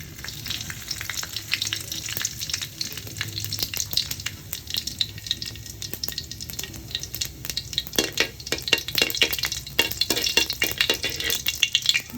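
A small amount of cumin seeds fries in hot oil in a heated kadai, giving a dense, steady crackle and sizzle that grows busier near the end, with occasional utensil rattles, close up and without speech.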